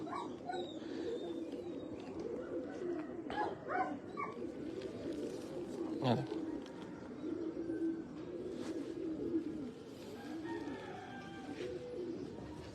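Breeder pigeons in a loft coo softly in a continuous murmur, with scattered sharp clicks and one louder bang midway, and no talking.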